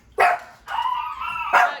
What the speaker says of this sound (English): second dog barking